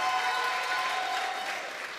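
Applause from a church congregation, a steady even wash of many hands clapping with a faint crowd murmur, fairly loud and continuous, tapering slightly at the end.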